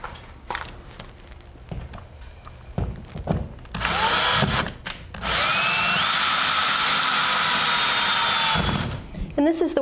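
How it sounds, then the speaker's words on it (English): A power drill drives screws through a light track into ceiling anchors in two bursts, a short whir then a longer steady whine lasting several seconds, close and loud, with handling noises before and after. "all you need to do is line up your track and screw this in through the bottom."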